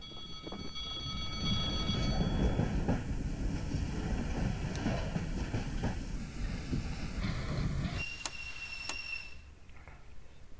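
A train passes in Garry's Mod as a steady loud rumble with wind-like rushing that carries for about eight seconds, then drops away, leaving brief high metallic tones.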